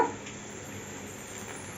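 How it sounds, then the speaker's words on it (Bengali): Capsicum going into a pan of frying potato, carrot and beans for a chirer polao (poha pulao), a soft close sizzle that starts with a brief louder burst and then settles into a steady, quiet hiss. "আলু গাজর আর বিনটা ভাজা হয়ে গেছে এখন আমি ক্যাপসিকামটা দিয়ে দেব"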